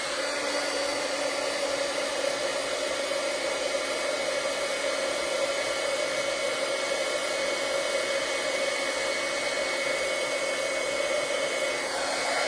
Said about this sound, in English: let's just heat set this